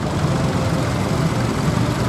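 Pulling tractors rumble steadily past at an outdoor steam and craft show arena, a continuous low, broad engine drone at moderate level with no pauses and no talk.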